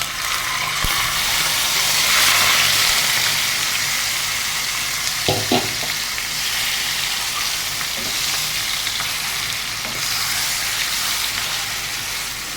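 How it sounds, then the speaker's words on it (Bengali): Chicken pieces frying in hot oil give a loud, continuous sizzle that fills the whole stretch, with a few faint clinks and stirs partway through. "ভালো করে আমি তেলের মধ্যে কিছুক্ষণ ভেজে নেব।"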